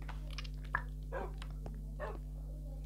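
A dog in a survival video game barks a few times in short, sharp bursts over a steady electronic hum, sounding slightly processed.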